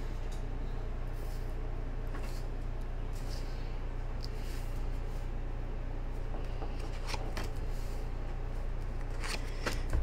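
Steady riffling and soft slapping of tarot cards being shuffled, close by, repeating over a continuous low background hum.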